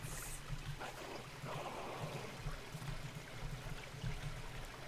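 Running water in the Metamorphosis video game, a steady, soft, continuous flowing wash with slight surges, heard alone at moderate distance.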